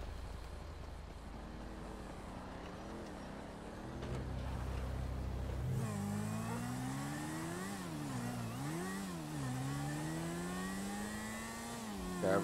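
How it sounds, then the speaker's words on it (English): A garbage truck drives past outdoors, its engine droning low and then rising and falling in pitch as it revs and shifts through gears, growing louder partway through and staying close until the end. "Garbage truck."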